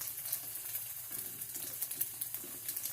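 Cajun-seasoned teriyaki tofu frying in a pan, with a steady close sizzle and crackle that runs the whole time with scattered small pops and no voices.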